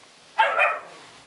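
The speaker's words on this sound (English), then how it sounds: "I'm gonna take a video of my dog too, if you can hear it barking" A pet dog gives a single short, sharp bark nearby, clear against a quiet background.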